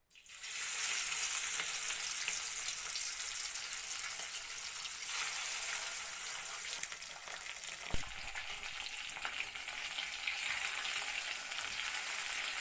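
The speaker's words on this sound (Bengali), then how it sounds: "মাছটা একটু কড়কড়া হয়ে ভাজা হইব" Fish rubbed with turmeric and salt sizzling as it fries in hot oil, a bright steady crackle that starts suddenly and continues, with a brief clink partway through and no talking.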